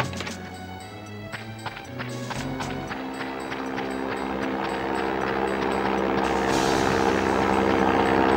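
Propeller airplane engines in the game The World is Not Enough drone steadily and grow gradually louder during a landing, with a few brief clicks early on and no talk.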